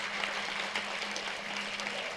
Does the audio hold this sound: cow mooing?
no